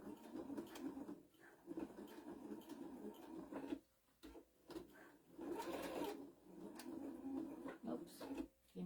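A sewing machine stitches a snap bag in rapid mechanical bursts, pausing briefly between runs, close and fairly quiet, with occasional handling noises around it.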